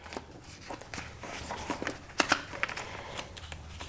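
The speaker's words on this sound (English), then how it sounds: "take your scissors and cut right on the drawn line" Scissors cut through paper along a drawn pattern line, giving a series of short crisp snips and rustles at close range, quiet and uneven in rhythm, with no talking over them.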